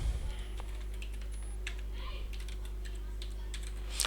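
Computer keyboard keys clack in short irregular bursts during Python coding, fairly close, over a low steady hum in a quiet room.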